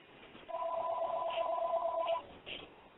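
A telephone rings with a steady electronic warble in one sustained burst of about a second and a half, close and fairly loud, with a little background noise.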